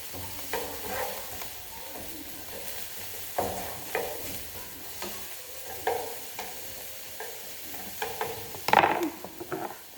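Onions sizzle in a pan for a crustless quiche while being stirred, a steady frying hiss punctuated by repeated scraping strokes and a few sharp clinks.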